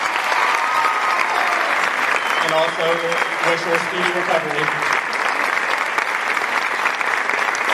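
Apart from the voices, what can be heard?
audience applause at athletic awards ceremony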